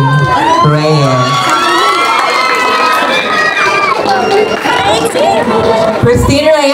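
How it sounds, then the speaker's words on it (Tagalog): A crowd at a Miss Gay Queen of Pearl 2024 pageant cheers, whoops and applauds loudly throughout, with shouted voices and a lively roar filling the space. "Sabay-sabay po nating hiyawan at palakpakan, Miss Christine Reyes."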